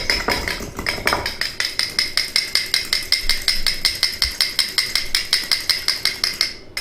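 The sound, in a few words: egg being cracked and whisked for Wellington glaze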